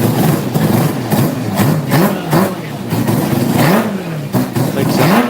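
A Mazda RX-7 rotary engine tuned by Vargas revs loudly and close, its pitch climbing and falling in several repeated throttle blips over a rough idle.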